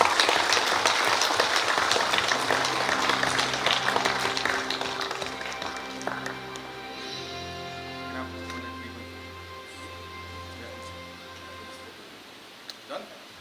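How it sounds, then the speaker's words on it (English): Crowd applause at a project launch ceremony, strongest at the start and then thinning out over about thirteen seconds under sustained musical tones. "May we have a round of applause, please?"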